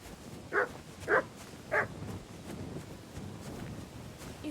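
A dog in the video game Kingdom Come: Deliverance 2 gives three short, evenly spaced barks, moderately close, over a low background murmur.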